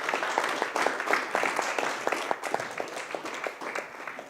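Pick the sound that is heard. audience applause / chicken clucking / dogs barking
audience applause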